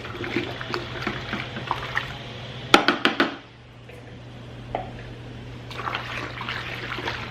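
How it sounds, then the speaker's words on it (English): Water running into a car-wash bucket to foam up soap, a steady rushing hiss broken by a few sharp clatters before the flow eases into quieter trickling and sloshing. "I'm gonna use this bucket for my wheels, so I'll foam this up."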